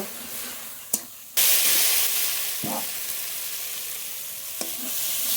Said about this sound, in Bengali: টমেটো কুচি দেবো টমেটো কুচি মশলা খুব ভালোভাবে কষিয়ে নেব